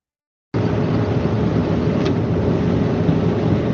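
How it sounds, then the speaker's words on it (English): An International LT single-axle day cab truck's engine starts suddenly after a short silence and then keeps running in a loud, steady low rumble, with one brief sharp click partway through. "I can give you guys engine sound."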